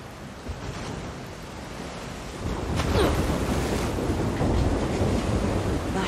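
Strong rushing water roars steadily in The Last of Us Part II, a dense continuous wash that swells louder midway and carries on without a break.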